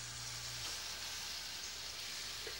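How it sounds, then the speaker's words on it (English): Steady sizzling of banana nut butter pancake batter frying in a hot pan, a continuous crackling hiss with no voices. "You hear that nice sizzle?"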